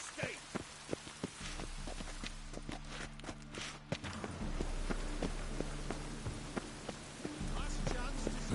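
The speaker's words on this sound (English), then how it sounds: "Looks like rain." Rain pattering on surfaces in a video game, a soft steady patter with scattered drops, joined by a low droning hum and clip-clopping footsteps, while quiet voices talk underneath.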